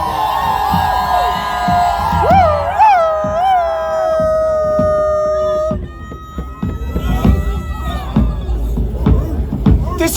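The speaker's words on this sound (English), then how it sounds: "This crowd seems a bit wild." Rowdy Viking festival crowd at a Texas Norse myth gathering howls in long, rising wolf-like cries, then breaks into loud cheering and hubbub.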